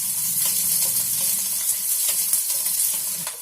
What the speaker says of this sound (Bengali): বড়িটাকে এবার এর মধ্যে দিয়ে দেব। গ্যাসটা একটু বাড়িয়ে দিতে হবে এবং এটা একটু ভালো করে ভেজে নিতে হবে, লাল করে।